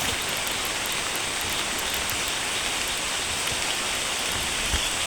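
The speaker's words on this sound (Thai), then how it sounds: "ฝนตกแล้ว" Steady, even rain hisses continuously on surrounding surfaces, a dense, fairly loud wash of drops with no voices over it.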